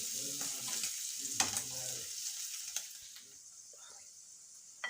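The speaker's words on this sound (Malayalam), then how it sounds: "അപ്പോൾ നമ്മുടെ ബ്രാല് വറുത്ത് കഴിഞ്ഞു കേട്ടോ" Steady hiss of snakehead fish frying in hot oil, with a few sharper crackles and pops rising over the continuous sizzle.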